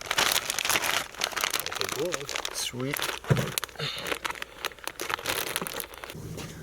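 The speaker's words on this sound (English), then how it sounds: "I'm just going to wrap it up and throw it in a plastic bag" A part being wrapped up and pushed into a plastic bag, with close, busy crinkling and rustling throughout and a person speaking briefly over it.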